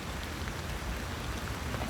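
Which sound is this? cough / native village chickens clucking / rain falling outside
rain falling outside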